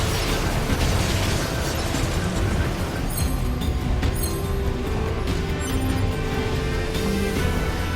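Enemy gunfire and explosions in NieR Automata, a dense, loud, continuous wash of bursts, booms and crackling impacts with no talk over it.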